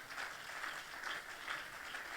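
Congregation applauding for the Lord during a church service, a steady, moderately faint wash of clapping hands that sustains evenly with no voices standing out.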